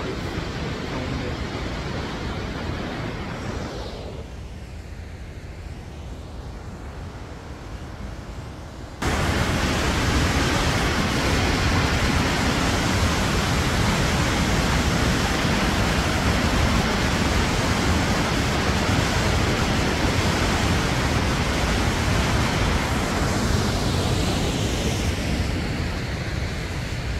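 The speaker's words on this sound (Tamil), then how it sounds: "முதல் வாட்டர் ஃபால்ஸ் சவுண்டு." The first waterfall at Twin Falls roars in a loud, continuous broadband rush, thinner at first and then fuller and heavier after a sudden shift, with no break throughout.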